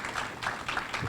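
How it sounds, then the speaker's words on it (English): A short, soft burst of clapping from a small audience at a college wellness center dedication, quiet and a little distant, lasting only about a second. "Another clap."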